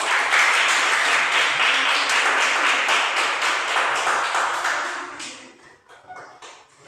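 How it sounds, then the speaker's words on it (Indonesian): A classroom group applauds with dense, steady clapping from many hands that fades out over the last couple of seconds, leaving scattered single claps. "Mari kita beri tepuk tangan."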